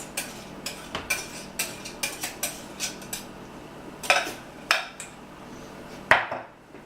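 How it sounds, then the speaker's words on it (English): Utensils tossing cooked noodles with a creamy mixture in a dish for a noodle kugel, giving a steady series of scraping clinks and soft wet knocks, then a few louder clatters, close and with no talking. "we're going to add this mixture to our noodles"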